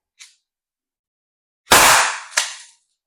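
A Byrna CL launcher fires an inert chemical round with a sharp, loud compressed-air crack that trails off briefly. A second smack follows as the round strikes, and a faint tick comes just before.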